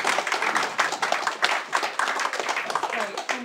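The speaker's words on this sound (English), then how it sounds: "Can I ask for one more final round of applause for all 10 of our wonderful speakers today?" An audience applauds ten speakers at a Luton Friends of the Earth talk, a dense, steady patter of many hands clapping at close range for several seconds.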